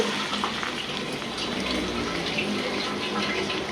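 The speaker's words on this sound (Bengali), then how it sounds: "একটু পানি দিয়ে লই অল্প একটু পানি" A short, steady pour of water into a pan, a soft continuous splashing stream close by with no talking.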